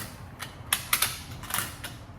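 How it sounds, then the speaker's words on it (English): A ratchet strap clip being ratcheted, giving a few quiet, irregular clicking and creaking mechanical pulls close by, with no speech. "So you sit there, you ratchet it."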